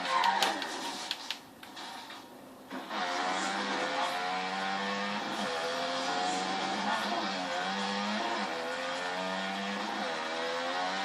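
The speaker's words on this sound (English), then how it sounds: "it's just a motorcycle racing and trick game" Motorcycle engines whine and rev continuously in the Motocross Madness racing video game, with a brief burst of harsher noise early on, then a steady, rising and falling drone without talk.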